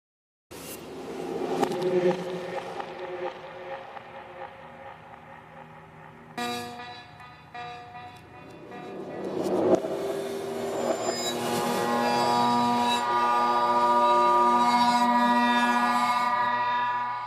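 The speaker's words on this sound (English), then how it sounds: "Reversing a sustained sound like this normally leads to compelling results." A sustained bowed electric guitar tone, played in reverse, swells slowly from faint scattered notes into a loud, dense, droning chord that builds and holds near the end.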